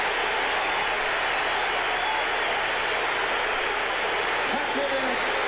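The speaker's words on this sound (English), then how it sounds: "listen to the crowd cheering the Phillies in first place with a 10-game lead at the halfway mark" A large baseball stadium crowd at an All-Star Game roars in a steady, broad wash of cheering and applause, with a voice faintly audible near the end.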